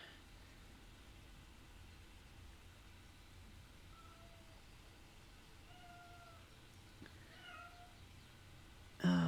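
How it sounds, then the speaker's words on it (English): A cat meows a few times outside in the distance, faint drawn-out calls over a quiet background hiss, followed by a sudden louder bump at the end. "now I got a cat out there making noise"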